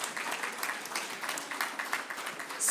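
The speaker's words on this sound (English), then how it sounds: "let's give them a round of applause." Audience applause at an Africa Day session, a moderate, fairly distant patter of clapping from a crowd that stays even for a few seconds, with a brief louder burst at the end.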